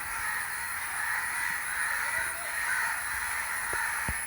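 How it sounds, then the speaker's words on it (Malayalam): Crows caw repeatedly at a moderate distance over a steady outdoor background hiss, with no talking. "ഇവിടെ കാക്ക"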